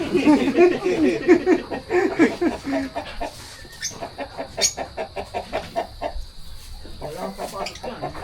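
Chickens cluck on a farm, with a burst of busy, close clucking at first that eases into scattered, fainter calls and rustling.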